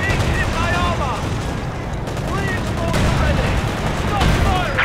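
Dense gunfire and artillery from a Company of Heroes 2 battle with British forces, continuous bursts and booms layered over radio-style unit chatter and game voice lines throughout.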